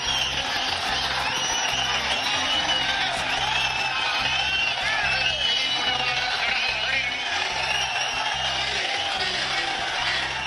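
Palaniswami's supporters chant slogans inside a crowded party meeting hall, a continuous loud roar of many voices shouting together with no break, close and dense throughout.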